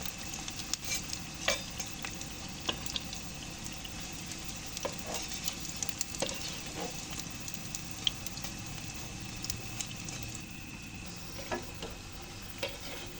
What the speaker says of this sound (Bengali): একইভাবে করে সব আলুগুলোকে ভেজে নেব।